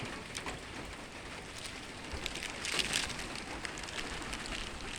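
Light early-morning rain falls steadily outdoors, a soft even patter with occasional brighter drops, fairly quiet and continuous throughout with no voices.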